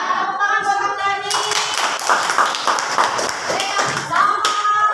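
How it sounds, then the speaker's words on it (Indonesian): An audience claps for Kang Dani during an academic supervision coaching session, a dense burst of hand claps filling the middle of the clip between stretches of other sound. "Tepuk tangan buat Kang Dani."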